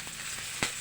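Food sizzling in hot oil in a pan with egg, fried rice and smoked fish on the stove, a steady close hiss with one brief louder crackle.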